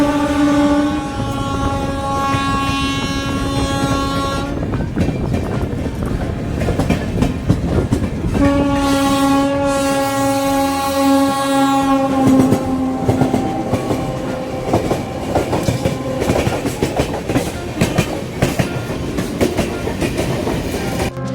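A passenger train on the railway between Mathura and Haridwar rumbles loudly and continuously along the track, with two long sustained horn blasts sounding over the clatter, heard close from on board.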